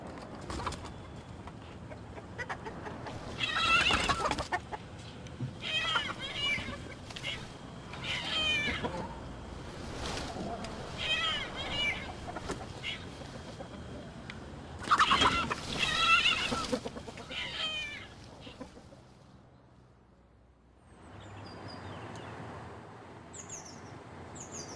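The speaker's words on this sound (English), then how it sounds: "More and more townies are keeping chickens," Chickens kept in a town garden cluck and squawk in bursts, some loud and close, with quieter pauses between and a softer outdoor ambience near the end.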